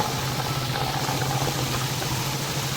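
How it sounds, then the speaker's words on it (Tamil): Floodwater rushes over a partly built bridge at Kandavalai, a loud continuous churning roar of flowing water with a low steady hum underneath. "எவ்வளோ தண்ணி மேலால் ஓடுதண்டு பாருங்க"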